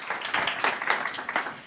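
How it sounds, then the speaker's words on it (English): Audience applause at a digital-impact summit panel, a dense broadband clapping wash that swells and sustains steadily for under two seconds. "Give them a round of applause."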